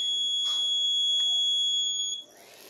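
A buzzer on a Raspberry Pi vehicle accident detection system sounds one continuous shrill, high electronic tone, loud and steady, then stops abruptly near the end. Faint background noise remains afterward.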